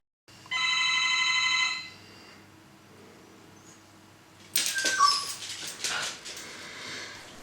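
An electronic doorbell chime rings once, a steady melodic tone lasting about a second, followed by a dog's high whimpering yips.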